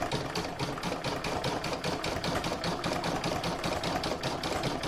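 An embroidery machine sews decorative stitching along a join on a bauble design, making a fast, steady mechanical chatter of needle strokes that runs evenly throughout at moderate volume.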